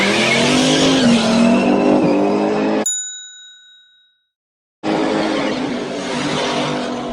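An open-differential car performs a one-tire fire, its single rear wheel spinning on a road with loud engine roar and tire noise, cut by a bell-like ding and a second of silence before the roar returns.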